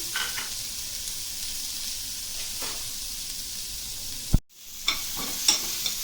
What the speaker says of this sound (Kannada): ಈಗ ಮಸಾಲಕ್ಕೆ 1 ಈರುಳ್ಳಿ ತೊಗೊಂಡಿದ್ದೀನಿ, ಫ್ರೈ ಮಾಡ್ಕೊಳ್ಳೋಣ.